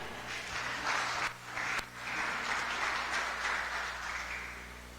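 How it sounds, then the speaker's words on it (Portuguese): An audience claps together during a church teaching session, a dense, steady patter of applause that dips briefly twice before swelling back and carrying on to the end. "Aplaude a Jesus."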